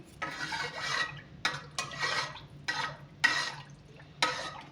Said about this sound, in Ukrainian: Ми наше молоко з маслом розмішуємо